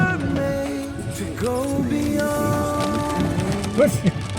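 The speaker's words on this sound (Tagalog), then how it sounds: "malakas yung ulan" Heavy rain pours steadily at a picnic grove in Tagaytay, Philippines, a constant hiss under people talking close by throughout.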